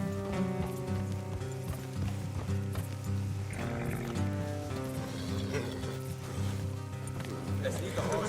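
Horses trot in the Western video game Red Dead Redemption 2, a steady clip-clop of hooves running throughout beneath game music and voices.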